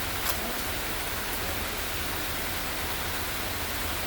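Steady rain falls outdoors as an even, continuous hiss of drops, moderately loud and unbroken for the whole stretch with no voices over it.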